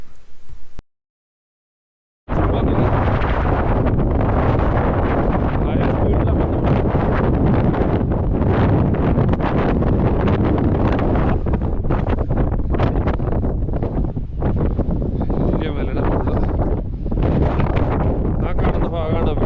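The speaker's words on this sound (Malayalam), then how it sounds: "ഇവിടുത്തെ കാറ്റിൻ്റെ സൗണ്ട് ഞാനിപ്പോൾ ഒന്ന് കേൾപ്പിക്കാം" Strong, gusting wind roars steadily into the microphone on a pass between two hills in the Peak District, UK, after a brief moment of silence at the start.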